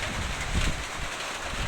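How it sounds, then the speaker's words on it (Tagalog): Strong wind gusting across open rice fields, a steady broad roar against the microphone that swells briefly near the middle, with no voices. "Dito malakas na yung hangin."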